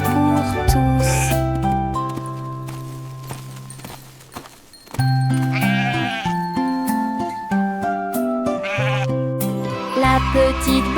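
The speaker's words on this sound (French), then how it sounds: "Ils sautaient tous les uns après les autres et bêlaient" Sheep bleat in a children's song, heard as several wavering bleats over sustained instrumental music, with a brief quieter break in the middle.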